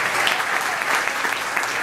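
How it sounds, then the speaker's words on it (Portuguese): An audience at a tribute event in a cultural space claps continuously, a dense, steady patter of many hands close and fairly loud, with no speech over it. "eu queria um grande aplauso para a Berê, para o Val, para todos que esti"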